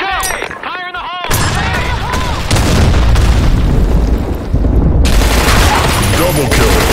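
Grenade explosions in a first-person shooter video game, a series of heavy booms and gunfire bursts that fill the clip loudly, with voices shouting commands at the start.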